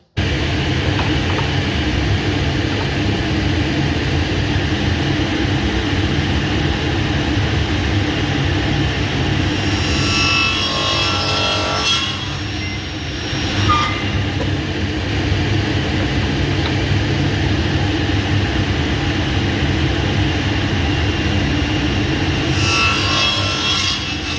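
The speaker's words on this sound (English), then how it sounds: "We're going to put the extraction on and then we'll make the cuts." A loud, steady dust extractor roar runs throughout while a saw cuts pen-blank material in two bursts, one mid-way and another near the end.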